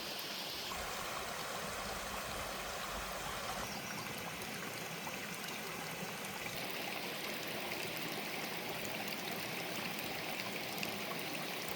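A broad, steady rush of falling water from atop a waterfall, loud and continuous with no pauses, filling the whole stretch without any voices.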